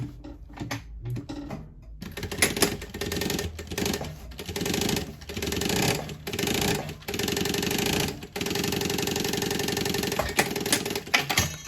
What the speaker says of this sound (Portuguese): como é uma peça grande, você vai dobrar e fazer a costurinha aqui